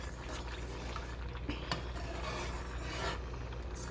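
A spoon scrapes and rubs steadily through thin gravy in a pan, a continuous close rasping texture with a faint low hum beneath and no talking.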